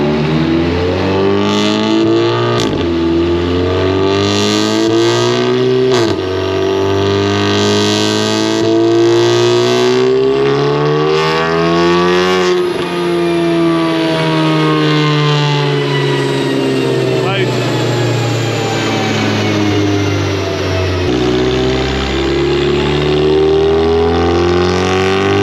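A high-power front-wheel-drive Seat Leon 2.0 TSI revs hard on a dyno, loud and close, its engine note climbing through several long rising pulls with sharp breaks between gears before easing back down.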